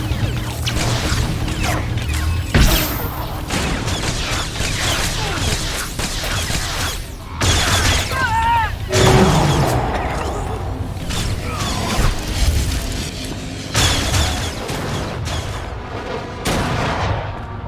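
Blaster gunfire in Star Wars: The Old Republic erupts in repeated loud bursts and booms, with crashes and mechanical clatter over game music and some voices.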